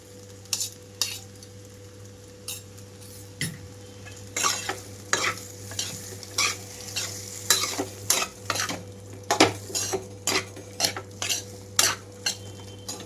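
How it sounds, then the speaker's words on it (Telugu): Boiled vermicelli being stirred with egg in a pan, with a long run of close, rhythmic spatula scrapes and clatters against the metal over a low steady hum and faint sizzle. "ఇప్పుడు ఉడికించి పెట్టుకున్న సేమియా మొత్తం వేసేసుకుంటున్నాను"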